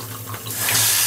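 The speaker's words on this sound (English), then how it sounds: "So now, with the faucet still on, I can keep this regulated hot, cold, or somewhere in between and operate this handle." Water runs from a newly installed kitchen faucet in a sink cabinet, a close, steady rushing stream that swells louder as the flow opens up, with no talk.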